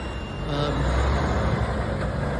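A truck approaches on a road with no turn lane and turns right, a loud, close, steady engine rumble and broadband road noise that swells slightly and holds for the brief moment.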